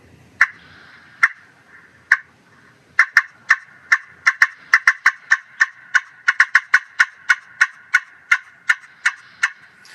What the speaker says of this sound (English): cutting is, in my opinion, is just a really excited cluck